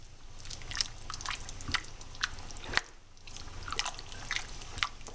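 Parsley is stirred into a pot of creamy turkey noodle soup, making soft, wet squelching and dripping sounds with light clicks of the utensil, quiet and close, with no voices.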